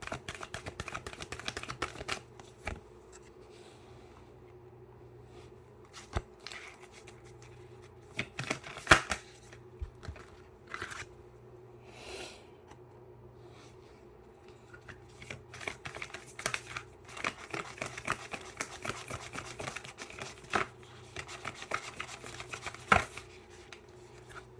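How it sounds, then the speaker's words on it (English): Oracle cards are shuffled and pulled from a deck in a quiet room, giving soft repeated riffling and flicking bursts with brief pauses between them. "I'm going to pull 3 of these cards."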